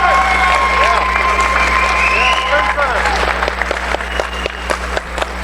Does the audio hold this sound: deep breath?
no